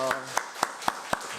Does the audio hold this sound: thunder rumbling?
no